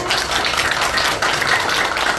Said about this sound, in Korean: 다시 한번 감사의 박수 드리겠습니다